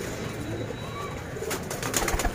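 Saharanpuri pigeons in a loft give soft, low cooing and bird activity over a steady background, with some brief fluttering bursts near the end of a short stretch.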